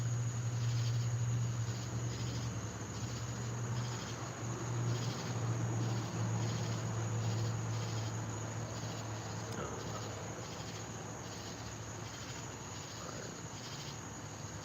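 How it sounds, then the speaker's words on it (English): Dense chorus of crickets chirping steadily outdoors on a humid summer night, a continuous pulsing trill that fills the background at moderate loudness, with no voices. "What attracts a cricket?"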